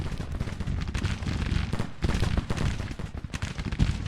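Grand Tactician: The Civil War battle with massed musket volleys and artillery fire crackling and booming continuously, dense irregular bursts at moderate distance.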